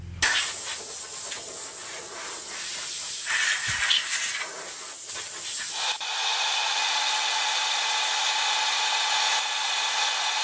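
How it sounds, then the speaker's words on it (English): Compressed air blasts dust off the body of a 1964 Fender Mustang guitar during restoration: a close, harsh hiss in short bursts, then a long continuous rushing spray. "I'm just going to give it a dust with some air now."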